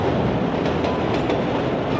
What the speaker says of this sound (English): Another classic shot of the train.